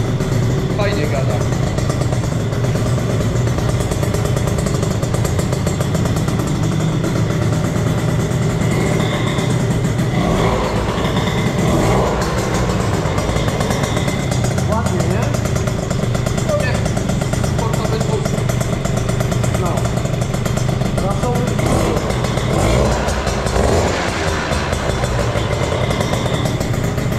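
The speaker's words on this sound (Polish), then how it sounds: "To jest wydech z najwyższej półki, nie?" A scooter fitted with an aftermarket exhaust runs loud and close throughout, holding a steady throaty rumble with slight revs, while people talk over it.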